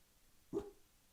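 A single short dog bark, fairly close, against a quiet background.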